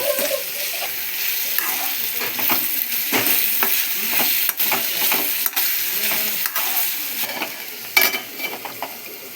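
Turmeric and ginger paste is stirred into cluster beans frying in a pan. Close sizzling runs throughout, broken by repeated sharp scrapes and clacks of the spoon against the pan, with no talk.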